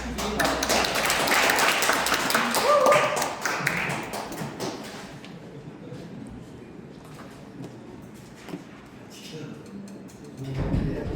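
An audience gives a lecturer a welcoming round of applause, a dense burst of clapping that lasts a few seconds and then thins out into scattered claps and faint room noise.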